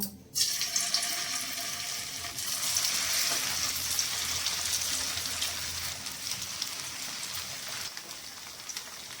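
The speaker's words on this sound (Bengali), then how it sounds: "তেলটা গরম হয়ে গেছে, এবার পনিরগুলো একটা একটা করে ভেজে নেব" Paneer pieces frying in hot oil in a kadai for chilli paneer, a loud, dense, continuous sizzle that flares up at the start and holds steady close by.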